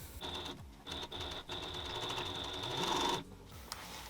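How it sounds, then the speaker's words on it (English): A binding sewing machine stitching fabric for a tool bag made from an upcycled army jacket: a steady, fast mechanical whir with a high whine, stopping briefly a few times, close and quiet. "I've opted to use my binding machine."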